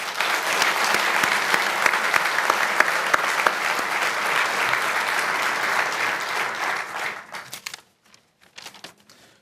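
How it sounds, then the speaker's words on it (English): Sustained applause from an audience at a university scholar-athlete awards banquet, steady and full for about seven seconds before thinning out into a few scattered final claps. "Give a round of applause for those guys."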